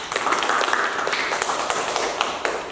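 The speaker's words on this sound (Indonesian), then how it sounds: "Ya, kita kasih aplaus." Students in a classroom clapping together, a dense patter of hand claps with a few sharper individual claps standing out, lasting a couple of seconds at moderate loudness.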